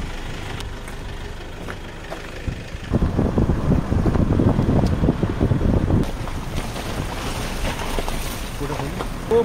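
A waterfall flows behind a small house in a Dongria Kondh tribal village near Rayagada, Odisha, a steady broad rushing that swells loud for a few seconds mid-clip, mixed with wind, with faint voices nearby.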